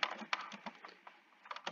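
Quick keystrokes on a computer keyboard while Python code is entered, irregular clusters of close, crisp clicks with short pauses between bursts.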